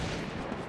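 A quad launcher in a shooter video game fires in a brief, loud, booming burst of blasts.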